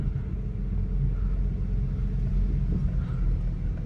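A car engine at a supercar meet in West Palm Beach gives a deep, continuous rumble, loud and close, holding steady without sharp peaks and with no talking over it.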